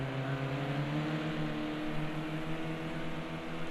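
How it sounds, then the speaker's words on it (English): Racing car engines at Donington Park drone steadily through a continuous, unbroken stretch, holding a strong tonal hum with layered harmonics, with no speech over it. "Just hear the difference in the engines."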